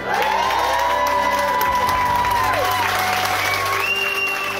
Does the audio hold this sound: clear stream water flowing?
no